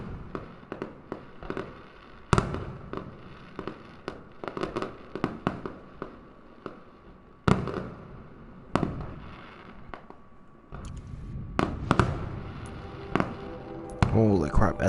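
New Year fireworks burst in a dense, irregular barrage of loud bangs and crackles, close and far, with a rising fizzing whistle near the end.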